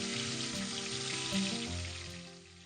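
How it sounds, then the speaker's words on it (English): Chicken sizzles and fries steadily in hot oil, a dense, continuous crackle held close for under three seconds, with no voices. "Now on to frying the chicken."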